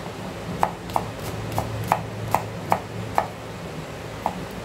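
A knife chops onions on a board while rice dishes are prepared: about nine crisp, close knocks at a loose, unhurried rhythm over a quiet room background.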